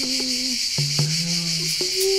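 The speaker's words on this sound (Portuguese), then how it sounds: "As cigarras cantam." Cicadas drone in a steady, high buzzing chorus, with some low sustained tones underneath.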